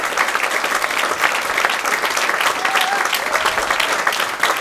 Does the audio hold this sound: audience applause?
yes